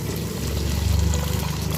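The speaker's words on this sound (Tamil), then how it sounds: "இதோட நம்ம தேவையான அளவு தண்ணி சேர்த்துக்குவோம்." Water poured into a pot of tamarind curry with dried fish and elephant foot yam, a steady trickling pour with a low rumbling body, close and continuous, with no voices.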